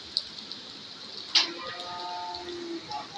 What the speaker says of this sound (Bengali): বৃষ্টি হচ্ছে, বৃষ্টি পড়ে